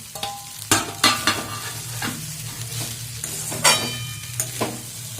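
Maggi noodles mixed with vegetables and spices fry in a pan as eggs go in, a steady sizzle broken by scraping stirs and occasional clinks of a utensil against the pan.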